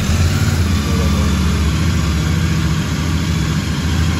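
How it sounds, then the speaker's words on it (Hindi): A Royal Enfield Continental GT 650 motorcycle engine idles nearby, a loud steady low rumble with even pulsing throughout. "एक बार स्टार्ट करके दिखाते हैं तुम्हें बाइक,"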